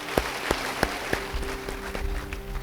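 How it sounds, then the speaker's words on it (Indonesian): A small congregation at a Christmas church service claps briefly for a speaker, opening with a few loud separate claps before settling into a softer, uneven patter. "Beri tepuk tangan bagi dia."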